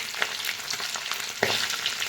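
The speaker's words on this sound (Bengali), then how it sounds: "মেয়ে বলে মাছ ভাজা খাবে, তো মেয়ের জন্য একটা ভাজছি" Fish frying in hot oil in a pan, a steady close crackling sizzle with brief stirring or turning noises and a sharper burst partway through, no voices.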